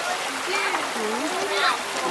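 Water rushes through a small stream where children have dammed it with stones and then let it flow, beside a road on Norway's Atlantic coast. A steady close gurgle and splash carries on throughout, with a voice audible faintly underneath.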